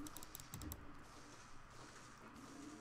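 Fingers tapping on a flat laptop keyboard, a quick cluster of light clicks at the start and then softer, sparse keystrokes, faint and close with no talking.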